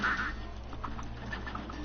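Ducks quacking during the carnival boss fight in Cuphead, several short cartoonish quacks scattered over busy game music, with one louder burst at the start.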